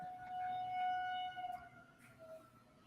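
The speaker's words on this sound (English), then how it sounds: "That tornado siren." A distant tornado siren wails with a steady, sustained tone, heard faintly over low background rumble.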